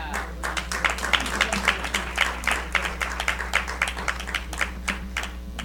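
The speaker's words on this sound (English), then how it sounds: "Come on and give these young people another hand clap on tonight." Audience at a Black History program church event claps steadily for several seconds, a dense, even applause heard close and without talk over it.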